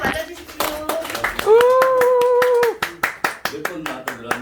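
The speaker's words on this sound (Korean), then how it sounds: "박수 맞아주십시오." Scattered clapping from a small audience at a product presentation comes as a sharp, evenly spaced run of hand claps, with a long sung or held vocal note over part of it.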